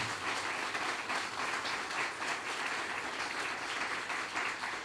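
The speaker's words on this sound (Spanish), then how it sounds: "Dale un aplauso al Señor, hermana" A church congregation applauds for the Lord; dense, even clapping carries on steadily throughout, fairly soft and distant-sounding, with no voices standing out.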